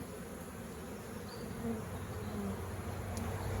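Honey bees buzzing steadily around an overfilled beehive comb, a dense continuous drone up close with no talking.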